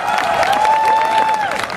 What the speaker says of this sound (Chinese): 所以请掌声鼓励。